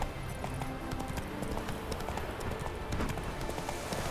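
Roach, a horse in The Witcher 3, galloping with rapid, continuous clip-clop hoofbeats up close, under steady background game sound.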